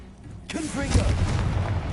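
A Confringo fire spell from Hogwarts Legacy bursts in one sudden blast, followed by a rumbling, crackling tail that stays loud and close, with a voice heard faintly under it.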